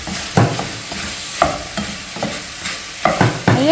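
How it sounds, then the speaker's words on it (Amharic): Onions fry in a pan while a spoon stirs them, sharp scraping strokes recurring every second or so over a low background sizzle, close and fairly loud. "አሁን ሽንኩርታችን እንጨምራለን።"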